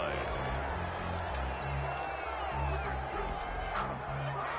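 A stadium crowd in an American football video game keeps up a steady, dense roar through a Ravens drive, with a commentator's voice running over it the whole time.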